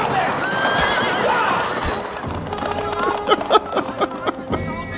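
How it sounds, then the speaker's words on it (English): A horse sound effect in a 1984 spy comedy film: a loud, wavering whinny followed by a run of hollow hoof clops. "Like a horse."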